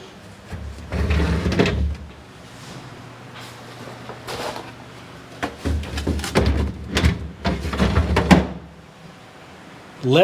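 A refrigerator's leftover pizza drawer is pulled open and pushed shut several times, giving close bumps and sliding knocks in bursts with brief pauses between.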